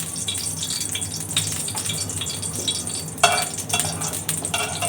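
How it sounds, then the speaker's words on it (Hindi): Green cardamom pods roasting in desi ghee for sweet Pakistani zarda rice, giving a steady close sizzle with stirring scrapes and a few sharper clinks of a utensil against the pan. "और देसी घी के साथ हम जो है इसमें छोटी इलायची को इसमें भूनेंगे"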